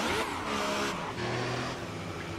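Formula 1 car engine in a racing video game, held at a loud sustained whine with a pitch shift midway, faint tire screech, steady throughout with no talk.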